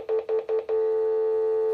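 A 4G VoLTE fixed wireless Android landline phone on speakerphone gives four short, evenly spaced beeps, then one long steady tone, loud and clear.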